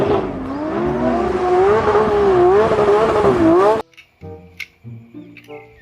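Toy sports car sound effect: a loud, wavering engine rev with rising and falling pitch for nearly four seconds, then it stops abruptly and a short, sparse electronic jingle follows.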